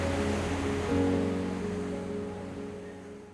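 Ocean waves washing onto the shore, recorded close to the water, a steady broad wash of surf that swells slightly around one second and then eases, with a low tonal hum beneath it and no voices.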